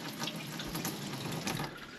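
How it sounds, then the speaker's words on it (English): Water runs from a tap into an underslung kitchen sink in an off-grid homestead kitchen with live edge countertops, a continuous close splashing hiss with no talking. "Features this underslung sink with water"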